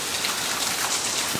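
Hard rain falls during a summer storm, a steady loud hiss of drops pattering on surfaces, heard alone and close.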